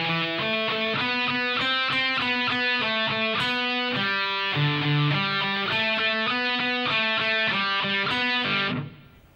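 Distorted electric guitar plays an intro riff slowly, a steady series of sustained, richly overdriven notes shifting pitch every half second or so, loud and close, with no talking, ending in a fade-out.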